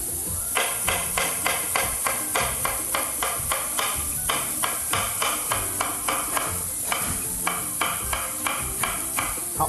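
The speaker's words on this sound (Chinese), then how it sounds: "这个时候呢，我们切一点小黄瓜" A knife chops cucumber on a cutting board in a kitchen, giving a steady run of about twenty crisp, evenly spaced taps, close and clear, with no talk over them.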